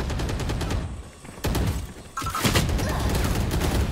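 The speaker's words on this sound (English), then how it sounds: "He just shot at the room and killed me." Rapid bursts of gunfire from a Valorant match, dense repeated shots filling most of the stretch with a brief lull in the middle, loud and close without speech over it.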